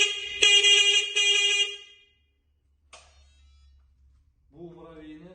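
A Mercedes-style horn sounds loudly in two sustained harmonic blasts, followed after a pause by a brief click and then a softer tonal sound at the end, with no talk over it.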